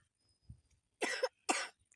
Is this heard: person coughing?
yes